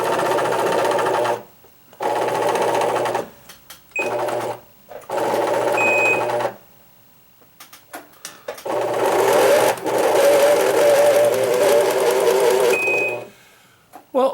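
A noisy Singer XL1000 sewing machine with a bad motor, running without thread, whirs loudly in repeated bursts of a few seconds each, starting and stopping with short silent gaps.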